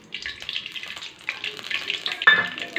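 Oil sizzling as it is poured into a hot kadai, a brief crackling hiss over about three seconds that flares louder near the end, with no voices.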